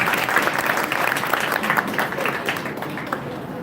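Audience applause fills a seminar hall on mental health, a dense, steady wash of many hands clapping together that continues throughout at even loudness.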